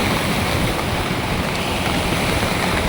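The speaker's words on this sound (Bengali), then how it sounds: "স্পিড বোট যাচ্ছে।" A speed boat runs along the Swarna river near Udupi, its engine and rushing water blending with wind into a loud, steady roar close by.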